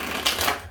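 A deck of tarot cards being shuffled, a short crisp riffle of papery flutter lasting under a second, close and fairly loud with no talking.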